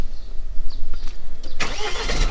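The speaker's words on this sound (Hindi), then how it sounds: "मैंने कहा जब तक गाड़ी लानी है कोल्ड स्टार्ट भी कर ली जाए।" A Mahindra Scorpio N engine cold start: a close, loud starter crank, then the engine catches with a burst and settles into a rough, throbbing idle.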